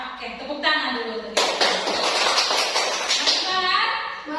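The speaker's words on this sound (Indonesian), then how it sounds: "Oke, tepuk tangan dulu." Children in an Indonesian fifth-grade classroom clap their hands together in a dense, steady burst of applause after a spoken prompt, with voices mixed in and the clapping filling most of the moment.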